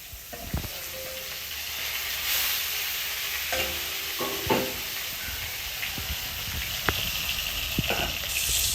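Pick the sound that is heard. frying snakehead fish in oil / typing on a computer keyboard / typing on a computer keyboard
frying snakehead fish in oil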